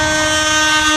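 An electric locomotive hauling a local passenger train sounds its horn in a loud, steady, sustained blast right up close, with a rumble of the train underneath.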